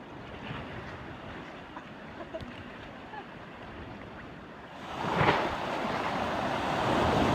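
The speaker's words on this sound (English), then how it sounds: "this is a beach called Winifred Beach" Waves wash in at Winifred Beach near Port Antonio, Jamaica, a soft continuous surf hiss with wind noise buffeting the microphone, swelling louder in the final seconds.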